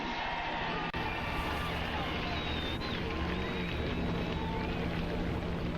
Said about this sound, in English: And the engines are fired up here at Daytona